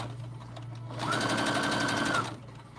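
A sewing machine runs steadily for about a second and a half, stitching the corners of a fabric fortune cookie coin purse, with a close, even motor whir between quiet pauses.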